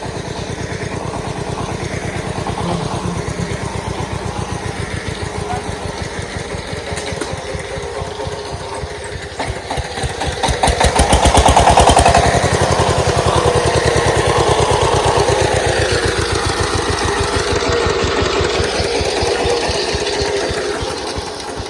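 A tractor engine runs steadily while puddling mud in a rain-soaked village field, a continuous throbbing chug with a rhythmic pulse that swells louder midway and then settles, no voices.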